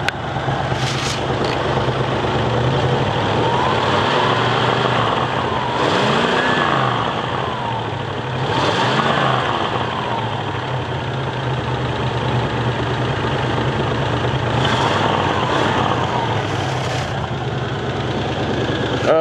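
Engine of a 1966 Oldsmobile Delta 88 coupe revving up from idle, rising and falling swells over a steady rumble with a faint knocking, loud and close throughout with no talking.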